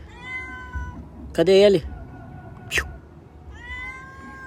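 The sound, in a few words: stray cat meowing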